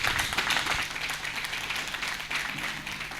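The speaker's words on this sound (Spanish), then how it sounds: "Denle un aplauso al Señor." A church congregation applauding in a steady, moderately loud burst of clapping with no break, heard throughout.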